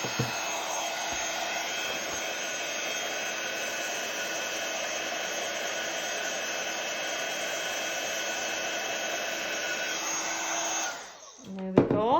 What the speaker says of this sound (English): I always like to just give it a little blast from my heat gun